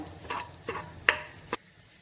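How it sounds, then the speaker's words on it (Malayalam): Chicken curry with chili powder is stirred in a pan at low volume, four soft scraping strokes of a spoon spaced about every half second over a faint background, with no talking. "ഇതിൻ്റെ പച്ചമണം മാറുന്നത് വരെ നമുക്കിതൊന്ന് നന്നായിട്ട് ഇളക്കി കൊടുക്കാം"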